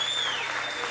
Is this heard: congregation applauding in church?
yes